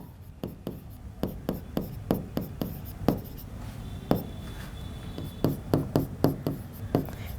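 Pen writing quickly on paper while drawing out a biology genetics cross, a steady series of close, distinct scratchy strokes and taps with a faint background hiss.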